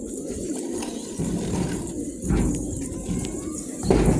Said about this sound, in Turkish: bugünkü videomuzda da yeni kuşlarımız var, yavrularımız var burada